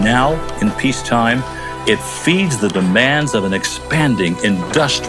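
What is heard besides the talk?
No everyday noises stand out.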